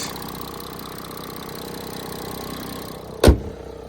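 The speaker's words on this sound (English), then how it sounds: "Here you have the engine. It's on. It's a 3-liter diesel." A steady 3-liter diesel engine in an Audi A7 Sportback 45 TDI Quattro idles with a low, even rumble, then a sharp, loud transient bursts near the end before the sound drops away.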